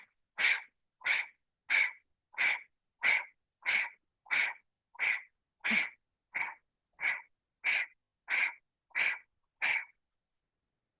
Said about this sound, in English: activate that breath of fire